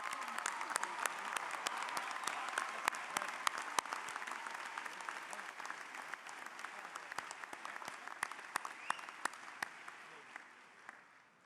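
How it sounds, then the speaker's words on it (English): A large commencement audience at the Northwest 2019 spring morning ceremony applauds graduating honors students, with steady, dense clapping throughout that tapers off at the end. "Ladies and gentlemen, join me in applauding these outstanding students."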